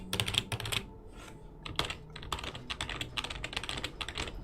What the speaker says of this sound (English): It's marketed as a stealth keyboard.